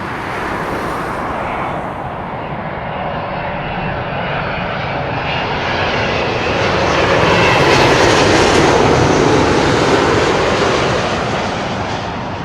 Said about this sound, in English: British Airways as the Boeing 777-200 ER, extended range, in from Doha